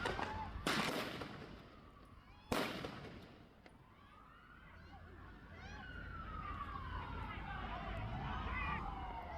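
Gunfire from a shooter during a public attack at a beach, with two loud sharp bangs early on, followed by a sustained wailing siren rising and falling in the background amid crowd noise.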